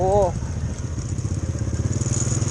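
A Honda Wave 100 motorcycle rides along a road, its steady mid-pitched engine drone close and continuous, with a brief whistle-like tone at the start.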